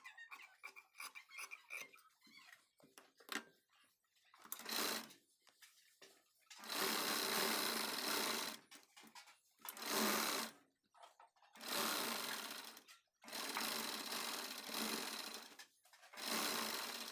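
A sewing machine stitches a blouse sleeve in bursts of rapid, buzzing stitching separated by short pauses, with lighter clicks and handling sounds at the start; loud and close, with no talking.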